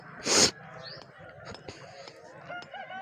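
A rooster at a crowded poultry market lets out a loud, close crowing call, then softer clucks and bird calls continue around it.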